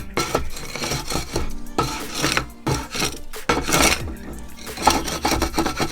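A metal paddle scrapes down an outdoor griddle in repeated rough, rasping strokes, loud and close, with short pauses between passes and no talking over it.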